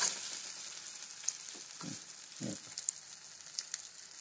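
Sweet corn and gram flour roast in ghee in a pan, a soft continuous sizzle close by with a few scraping stirs and small pops, no voices.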